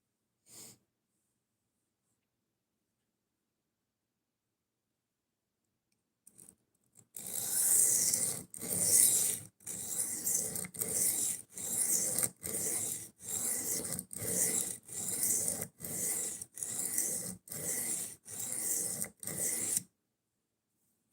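A knife blade is drawn across a sharpening stone in regular rasping strokes, about a dozen close, evenly spaced scrapes after a stretch of near silence.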